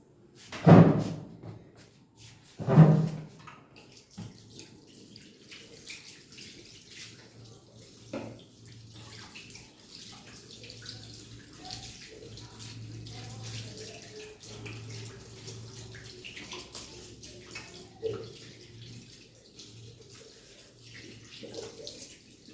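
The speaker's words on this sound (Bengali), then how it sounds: "আমি এক্ষুনি মুখটা ধুয়ে নেব" Water splashes in a sink while someone washes their face, with a few loud splashes at the start and then quieter trickling and dripping, plus a faint low hum, and no speech.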